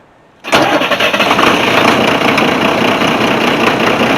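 The diesel engine of a 1992 Thomas school bus cranks after a short quiet moment, catches almost at once and settles into a loud, rough, clattering idle that stays steady to the end.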